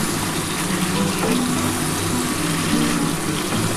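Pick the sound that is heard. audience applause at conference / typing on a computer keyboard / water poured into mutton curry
water poured into mutton curry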